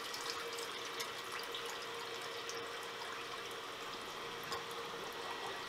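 Coolant sprays steadily from the coolant system of a Kia 15LMS lathe, a continuous faint hissing, splashing stream with small irregular spatters throughout.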